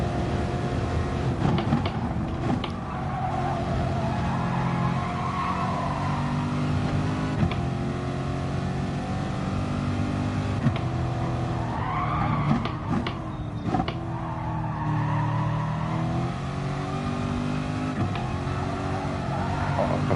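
A Toyota Supra race car in a racing video game drives at a steady engine drone, with the pitch rising and falling through corners and faint tyre noise. The car is heard alone, close and continuous.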